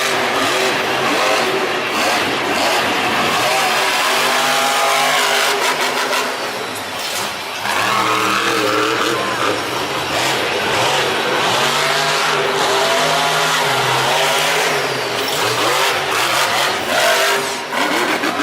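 Monster truck engines at a 2019 Monster Jam stadium show in Nashville rev loud and close, rising and falling through repeated throttle bursts for nearly twenty seconds, with no voices.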